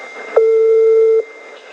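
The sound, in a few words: telephone ringing tone on a call to Tripoli, Libya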